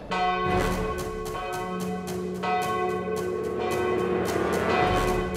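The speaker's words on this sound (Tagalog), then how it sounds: "ang ating bell walang nagpapatunog pero tumutunog ng kusa" A church bell at Santo Niño Cathedral in Oriental Mindoro rings loud and near in steady repeated strokes, each one's long metallic ring overlapping the next.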